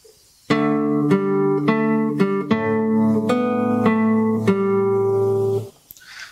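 Acoustic fingerstyle guitar picks the next phrase, the open fourth string and a fretted third string sounding together, in about eight ringing, closely miked plucks before fading out, without speech.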